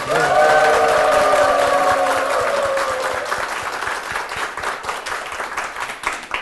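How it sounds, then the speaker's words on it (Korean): A church congregation at Seogwang Church claps loudly for the church and its senior pastor, strong applause at first with some voices and tones over it, then settling into lighter scattered clapping. "우리 서광교회를 위해서 또 담임 목사님을 위해서 큰 박수 부탁드리겠습니다"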